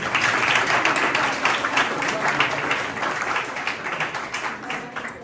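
A crowd at a company keynote applauds a business partner, dense continuous clapping from many people, loud and close, fading slightly toward the end.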